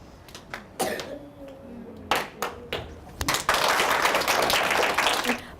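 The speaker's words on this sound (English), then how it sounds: "You're supposed to clap, remember?" Children in a classroom clap: a few scattered single claps first, then a burst of dense group clapping that carries on to the end, with faint voices in between.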